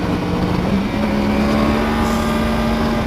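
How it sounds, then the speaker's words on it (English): A Yamaha R1M sport motorcycle's engine pulls hard on a winding road, a steady buzzing drone with a rising tone, heard up close with wind rush around it. "R1M, this R1's got great power"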